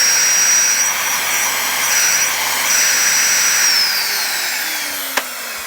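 Numatic Henry HVR200 vacuum cleaner, freshly restored, running steadily with a loud broadband whoosh and a high motor whine, a low hum dropping out partway, then a brief knock near the end.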